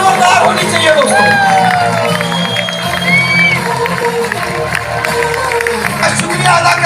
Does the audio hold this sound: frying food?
no